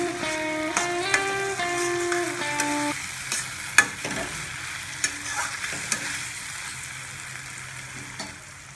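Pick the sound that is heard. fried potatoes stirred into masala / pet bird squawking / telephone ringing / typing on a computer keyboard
fried potatoes stirred into masala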